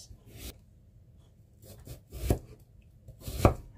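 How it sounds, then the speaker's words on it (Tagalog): A knife slices a peeled potato into thin julienne strips on a board, giving a few sharp, close cutting strokes spaced irregularly with quiet gaps between them. "Hatiin natin siya ng julienne. Yung strips na maninipis."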